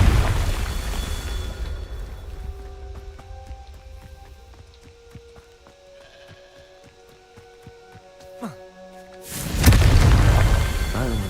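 A Confringo blasting spell in Hogwarts Legacy lands near the end as a single loud, deep boom, after a stretch of quiet game music and soft ambient noise.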